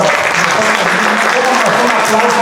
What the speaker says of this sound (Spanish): Yo creo que nos merecemos un aplauso